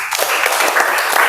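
Short burst of applause from a classroom audience of schoolchildren after a religious studies lesson, dense and steady clapping filling the whole moment.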